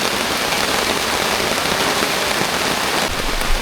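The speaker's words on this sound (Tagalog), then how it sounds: "Naulan na." Steady rain pours down over a campsite at Camp Gilmore, a dense, even hiss of drops hitting tents and ground that stays close and constant throughout.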